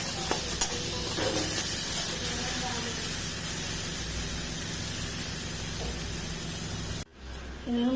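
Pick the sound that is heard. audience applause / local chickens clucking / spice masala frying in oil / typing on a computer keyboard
spice masala frying in oil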